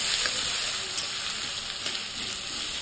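Tomato, onion and cumin frying in a pan, with turmeric and salt added, a steady close sizzle with light crackle and occasional stirring scrapes, no talking.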